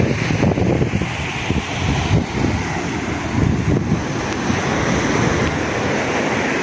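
Waves breaking on Pangi Beach in Blitar, East Java, with gusting wind buffeting the microphone, a loud continuous wash rising and falling.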